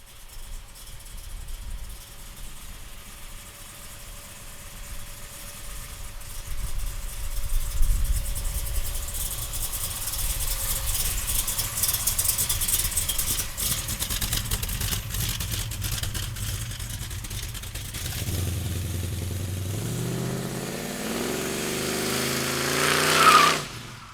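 A 1967 Chevrolet Chevelle restomod with a Moosey engine up front idles with a steady, rough rumble, then revs late on in rising, swelling bursts that peak loudly near the end.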